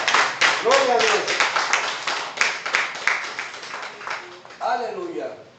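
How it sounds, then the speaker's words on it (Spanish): A church congregation claps in a fast, steady rhythm, the beats close and loud, while a voice calls out over the clapping. "Denle un aplauso al Señor."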